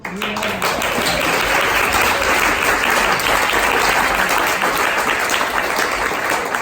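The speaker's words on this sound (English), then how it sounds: "Another round of applause to thank Diane for getting us all here." A roomful of guests applauding at a surprise retirement party for Wayne, thanking Diane, a continuous loud wash of clapping that holds steady throughout.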